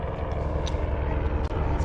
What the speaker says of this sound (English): And there's a rescue chopper.